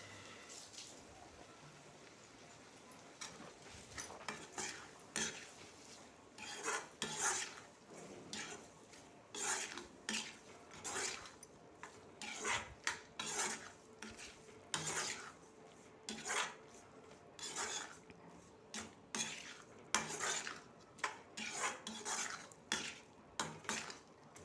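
Chicken pieces with salt are stirred in a pan, a metal spoon scraping and clanking against the cookware in repeated uneven strokes, close and fairly loud with faint sizzling beneath.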